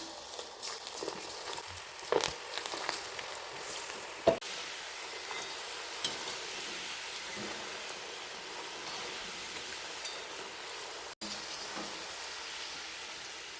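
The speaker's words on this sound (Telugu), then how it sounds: "ఇప్పుడు హీట్ అయిన ఆయిల్లో ఇవి ఒక్కొక్కటి ఇలా వేసుకోవడమే" Potato pieces for crispy Aloo 65 dropped one by one into heated oil, giving a soft steady sizzle with a few small splashes and bumps, fairly quiet and without talk.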